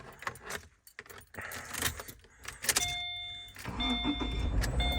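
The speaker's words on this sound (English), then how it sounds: "I'm going to start up the car now" A Subaru Forester is started after a stereo installation: keys jangle, the starter whirs briefly, and the engine catches into a steady idle while electronic chimes sound from the dash, recorded close inside the car.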